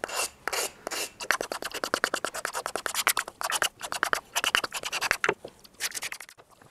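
Hand-held sanding block rasping along the edges of a wooden workpiece, a brisk run of short, even back-and-forth scrapes up close, pausing briefly before resuming, with no talking.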